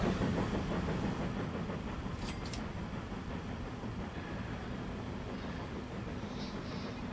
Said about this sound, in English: Passenger train going there.